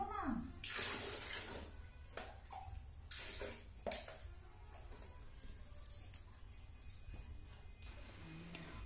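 Clothes are being soaked in water for washing in a home kitchen near the doorway, with faint splashing and sloshing sounds in bursts over a quiet, steady background.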